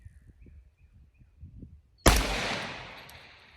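A rifle fires a single loud, close shot of 6.5 Grendel ammunition at a 500-yard target, its sharp crack followed by a long rolling echo that fades over more than a second after a quiet stretch of faint rustling.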